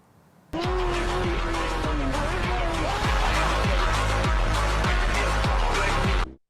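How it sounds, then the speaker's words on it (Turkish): A loud motorcycle engine roars up suddenly and keeps running hard, its exhaust throbbing with repeated revving pulses before cutting off abruptly. "Son paylaşımında motorunun egzoz sesini tedavi diyerek paylaşmıştı."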